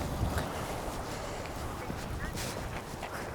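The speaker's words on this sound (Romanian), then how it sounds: "bate foarte tare vântul" Strong wind gusts batter the microphone on an open Arctic hillside in northern Norway, a loud, steady broadband roar that barely lets up for the whole stretch.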